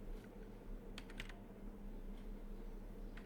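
Code goes in on a computer keyboard in soft, scattered keystrokes and short clusters, close but faint over a steady low hum, with no voices.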